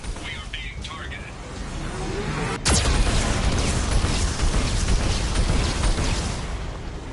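Geth cannon fire in Mass Effect 2, with a sharp, loud blast near the middle that gives way to sustained rumbling explosions, while a voice talks over it.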